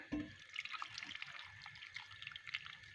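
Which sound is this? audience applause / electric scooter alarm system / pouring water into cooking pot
pouring water into cooking pot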